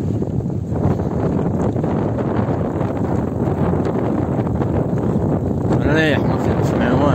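Outdoor wind buffets the microphone with constant loud rushing and rumbling on a desert journey toward Ouarzazate, with a brief whistling chirp near the end.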